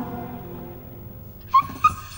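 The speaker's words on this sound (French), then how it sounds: "Oh, regardez, un petit chien!" Two short, high yips from a small dog over a quiet background hum, the second coming a moment after the first.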